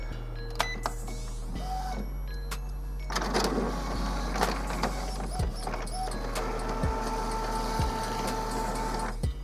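An Epson Stylus SX610FW inkjet printer printing a nozzle check: a steady motor hum with whirring paper feed, clicking carriage movements and rhythmic ticks recurring every second or so, close and mechanical, with no talking.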